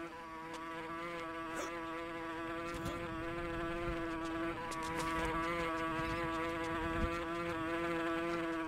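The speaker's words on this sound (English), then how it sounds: "There's bees in our cave." Insects buzz steadily inside a cave in the survival game Green Hell, a continuous droning hum with layered harmonics that holds near and even throughout, with no talking.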